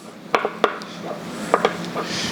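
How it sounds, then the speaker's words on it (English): A knife cutting through smoked spare ribs on a board, giving several distinct close knocks and clicks of blade and wood at irregular intervals over a quiet background, no talking. "So let's slice into our spare ribs."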